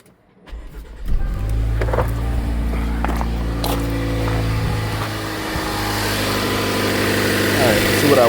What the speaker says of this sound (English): Here we go, start it up.